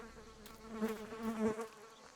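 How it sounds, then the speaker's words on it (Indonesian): Buzzing fly in the video game Martha Is Dead, a close, wavering drone that swells and fades over a couple of seconds, heard alone without voices. "Ada lalat."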